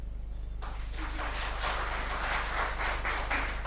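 Audience applause at a Hindi political news event with Yogi Adityanath, a sustained broadband wash of clapping that starts abruptly after a brief lull and continues steadily at moderate level, with a low mains hum underneath and no talk.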